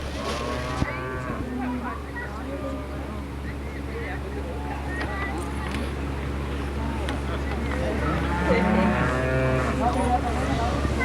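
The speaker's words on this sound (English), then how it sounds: "we've come now to the cattle wagon that has become quite familiar now on show fields" Cattle lowing from inside a livestock wagon at the Royal Manx Agricultural Show on the Isle of Man, several drawn-out moos standing out near the start and again near the end over steady outdoor show-field noise and crowd chatter.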